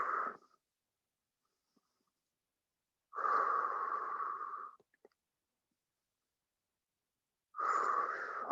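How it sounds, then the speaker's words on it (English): Two slow, deep audible breaths during a workout class's cool-down stretch, each a drawn-out airy rush lasting over a second, separated by long silent pauses, close and fairly quiet. "Couple more breaths."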